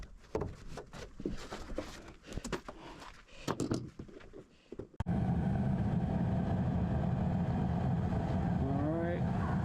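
A furnace with a repaired heat exchanger starts up after irregular handling clatter and knocks. It then settles into a loud, steady burner roar and blower rumble, heard close up.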